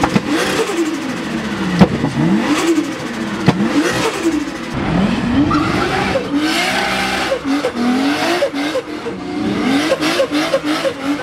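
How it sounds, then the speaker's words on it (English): A drift-spec S14 with an RB26 engine does a burnout in the middle of a street. The engine revs loud and sustained, rising and falling in repeated swells, with tire squeal mixed in. "this drift spec RB26 S14 does a burnout in the middle of the street."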